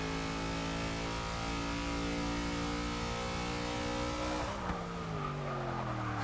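NASCAR race car in Forza 6 on a warm-up lap, a loud sustained engine drone whose pitch climbs steadily, then drops and shifts near the end with a brief tire squeal.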